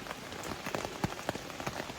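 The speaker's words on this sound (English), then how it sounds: "other times you set your tent up in the rain" Rain pattering on a tent at a trail campsite, a dense steady spray of drops with sharper individual taps striking the fabric close by, with no voices.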